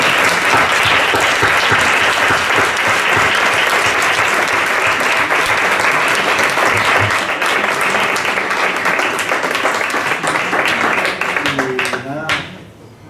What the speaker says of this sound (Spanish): el aplauso para los que quieren aprender.